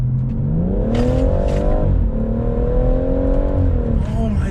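A tuned 410 bhp BMW M140i engine revs hard and steadily, its pitch climbing and falling in a continuous loud roar, close by.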